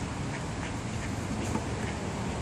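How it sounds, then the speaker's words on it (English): Ducks gathered by a creek, a few quacks standing out over a dense, steady outdoor wash of background noise, moderately near and fairly faint. "Ducks, ducks, and more ducks. This is a gathering place for the ducks"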